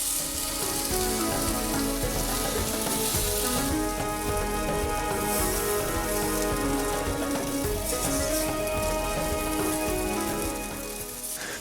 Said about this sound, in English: Add in the tofu when the pan just starts to smoke.